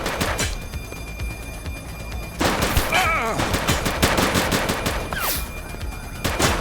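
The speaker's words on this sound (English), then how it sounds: "Shots fired!" Gunfire in a GTA police game, rapid bursts of automatic shots crackling close and loud, with sharp whizzing effects and a brief pause between volleys.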